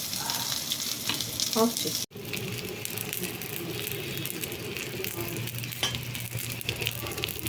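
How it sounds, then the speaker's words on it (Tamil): Stuffed bitter gourd fries in a pan with a steady, close sizzle and crackle, broken by a brief clatter and a short pause while a voice speaks briefly. "இந்த மாதிரி ஒவ்வொரு சைடாக கொஞ்சம் கொஞ்சமாக அப்படி திருப்பி விட்டு நீங்கள் வந்து ஃப்ரை பண்ணணும்"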